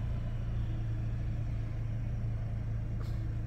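A 2015 Vauxhall Astra SRi with a 1.4 T engine idles with a steady low rumble and even hum, unchanging and fairly close throughout.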